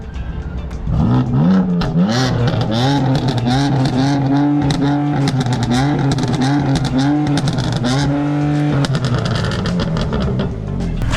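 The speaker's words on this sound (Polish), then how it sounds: "usłyszycie, jak chodzi resik po wymianie całego kompletnego wydechu" A sports car engine, fitted with a newly replaced full exhaust system, revs hard again and again, its throaty exhaust rising and falling in quick loud pulls, very close.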